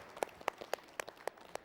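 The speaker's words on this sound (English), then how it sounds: "let's give a round of applause." Sparse, faint claps at a team competition's winner announcement, about six distinct hand claps in a slow, roughly even rhythm with no talking.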